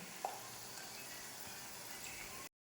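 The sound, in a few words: potato chips frying in oil on low flame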